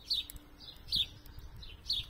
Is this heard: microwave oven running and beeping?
no